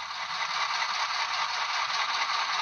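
Bachmann EMD F7 HO scale model locomotive in Pennsylvania livery, SoundTraxx DCC sound decoder playing a steady diesel idle: a continuous, even hiss-like rumble with a faint rattle, heard alone at close range.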